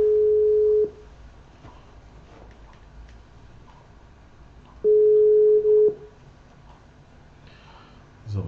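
A telephone ringback tone plays while a call is placed: two long, steady tones about four seconds apart, each lasting around a second, separated by quiet line hiss.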